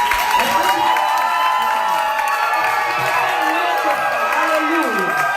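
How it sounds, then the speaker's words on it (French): A church congregation cheers, whoops and applauds in a loud, sustained roar, with shouting voices throughout. "Est-ce que tu peux te lever et pousser des cris de joie?"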